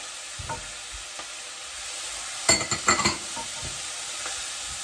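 Onion, chopped garlic and grated ginger sauté in a pan for chicken katsu curry, a steady close sizzle punctuated by a short burst of spoon-on-pan scraping and clatter midway.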